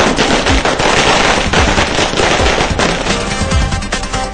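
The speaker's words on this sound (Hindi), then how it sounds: "कांग्रेसियों ने सड़क पर उतरकर आतिशबाजी की और मिठाइयां बांटी।" Fireworks set off on a city street by a celebrating crowd in Indore crackle in a dense, loud rapid-fire barrage of pops and bangs that runs without a break.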